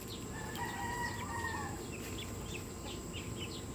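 Young chicks, Mitrablue Speeder grey gamefowl, give short, high, scattered peeps close by, while a rooster's drawn-out crow sounds faintly in the background over a steady farmyard hiss.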